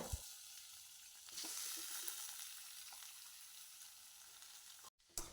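Salted jackfruit sizzles steadily in hot tempering oil, a continuous close frying hiss with a brief stir partway through and a short break near the end.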